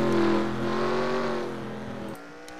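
Engines of race cars in a Carsland Cup series stock-car racing game at Cleveland Airport drone loudly and steadily with harmonic whine, easing slightly before cutting off sharply near the end.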